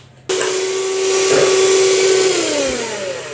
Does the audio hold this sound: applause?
no